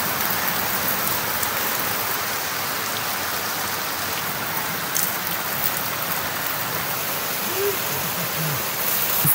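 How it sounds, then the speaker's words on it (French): Heavy rain drums steadily on stretched tarps in the Amazon rainforest of Brazil, a dense, continuous hiss close by with no letup and no voices. "Mais si ça pleut comme ça toute la nuit, c'est chaud."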